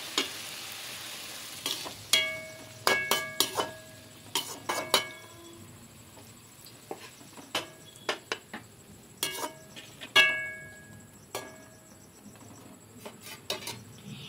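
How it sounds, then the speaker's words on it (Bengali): Potato and fish-roe fritters with spices stirred in a pan for fish-roe biryani, with repeated scraping clinks of a utensil against the pan in irregular bursts over a faint low sizzle, close and moderately loud. "সব কিছু খুব ভালো করে মশলার সঙ্গে মিশিয়ে নেবো।"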